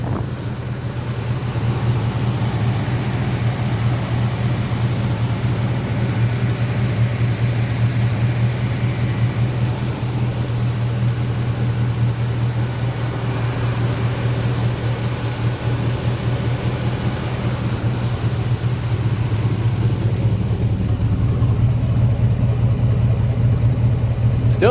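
A homemade racecar's V8 engine idles continuously with a low, steady rumble and a faint exhaust leak, loud and close, with no talking.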